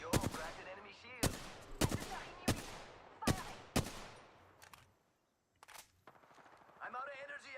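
Video game gunfire, bursts of rapid automatic shots in several volleys, loud and close, with a short quiet gap before more shooting; voices talk over it.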